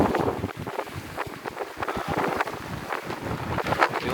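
Wind buffets a sailing boat under sail with no engine, a steady gusting roar with flapping, knocking bursts, close and loud, with no talk.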